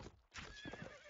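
Horse hooves clip-clop in a video game, a brief run of quick hoof beats with a whinny, over steady game background sound.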